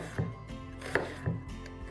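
A knife cuts onion into batons on a board, giving three soft, spaced chops in quick succession, close and fairly quiet.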